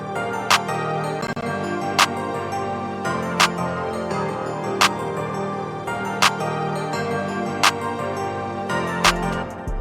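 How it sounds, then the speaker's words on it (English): Hip-hop beat in a hard melodic trap style, with a crisp clap sample hitting at regular intervals over a sustained synth melody and low bass, punchy and up front, no voices. "First thing we got is the clap."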